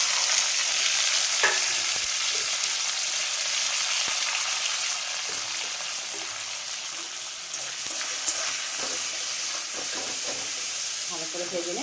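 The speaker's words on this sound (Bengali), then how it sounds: "এবার আমি তেলেতে দিয়ে দেবো পেঁয়াজ আর টমেটো কুচি" Chopped onion and tomato fry in hot oil for chowmein, a loud, continuous sizzle with occasional scraping and clicking of stirring close by.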